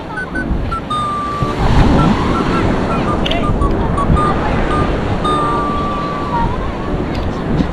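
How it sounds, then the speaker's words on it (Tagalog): Large sea waves crashing onto a shore in a steady, loud roar of surf, with wind buffeting the microphone and bird calls faintly overhead. "Ang lalaki na naman ng alon mga kaloko"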